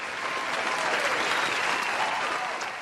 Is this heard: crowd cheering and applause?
yes